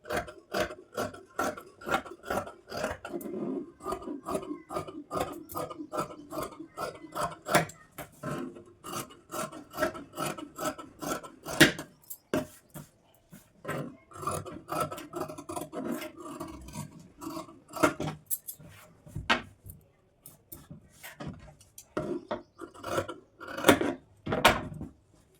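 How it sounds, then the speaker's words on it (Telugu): Scissors snipping through dress fabric to cut a collar neckline, a long run of quick, rhythmic rasping cuts close by, with short pauses between bursts and no talking. "ఇప్పుడు కట్ చేసుకోవాలి."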